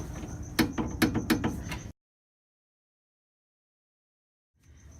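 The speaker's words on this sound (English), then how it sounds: "This is a 12 millimeter socket that I'm using." A 12 mm socket on a ratchet tightens a brake line bolt on a Honda Civic, giving a quick run of sharp clicks over about two seconds before a silent gap, then faint handling noise.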